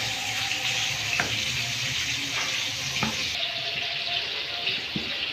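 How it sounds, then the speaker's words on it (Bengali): Pieces of catla fish fry in hot oil with a dense, continuous close sizzle, broken by a few clinks and scrapes of a utensil in the pan, no voices. "আগে গাদানো মাছগুলো ভেজে নেবো, তারপর"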